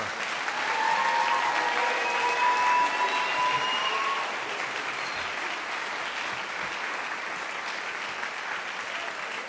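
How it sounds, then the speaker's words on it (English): Crowd at a school bands' spring concert and awards night gives the graduating class a full round of applause, steady clapping with some cheering and whistles early on that eases slightly but continues throughout. "One more round of applause for the class of 2024."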